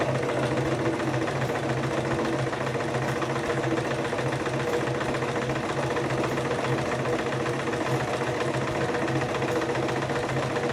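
A home sewing machine stitches fabric in a steady, continuous mechanical whir with a rapid even rhythm, running unbroken and fairly loud throughout, with no talking.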